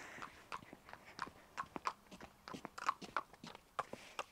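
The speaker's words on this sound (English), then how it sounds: "you can munch on the grass" Rhythmic crunching and tearing as a horse bites and chews grass, quiet, close, with irregular chomps every half second or so.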